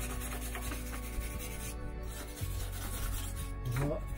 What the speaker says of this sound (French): Voilà, un petit coup de brosse.